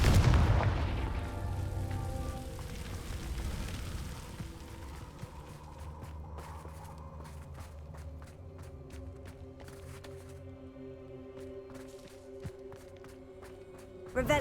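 A Confringo fire spell explodes in Hogwarts Legacy with a loud, deep boom at the start that fades into a long rumbling tail, followed by light footsteps and small clicks.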